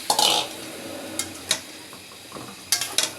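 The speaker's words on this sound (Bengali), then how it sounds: "এখন আমি সিম আলুগুলো দিয়ে দেবো।" Flat beans and new potatoes go into a cooking pan with a burst of sizzling clatter, then scattered knocks and scrapes of a utensil against the pan and a few more sharp clinks near the end.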